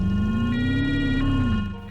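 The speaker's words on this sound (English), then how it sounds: "The police cars also have a European siren" A European-style police siren in the PS1 racing game London Racer, sounding as a loud, buzzy, sustained tone that bends slowly up and then back down, alone for about two seconds before fading slightly.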